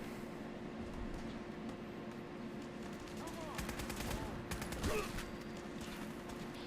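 Gunfire in the game Fallout 4, rapid bursts of shots and clattering impacts at a steady moderate level, layered over a constant background hum with a voice speaking faintly alongside.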